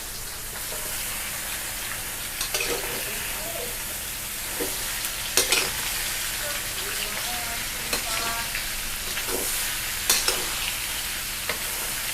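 Eggplant is stir-fried in a pan for a vegetarian Thai dish, with a continuous oily sizzle broken by repeated scraping and stirring strokes of a utensil against the pan, close and without speech.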